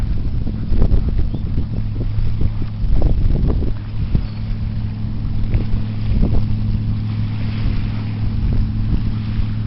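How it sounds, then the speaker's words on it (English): A motorboat engine drones steadily across open lake water, with gusts of wind buffeting the microphone and a few louder thumps and splashes. "I mean, I don't mind the boat noises."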